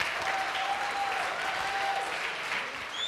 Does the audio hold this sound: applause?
yes